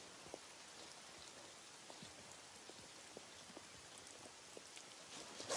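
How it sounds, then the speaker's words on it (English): Steady rain falling in a semi-shaded garden in July, a soft continuous hiss with scattered individual drops tapping nearby surfaces, fairly quiet and without talk. "it is raining quite steadily"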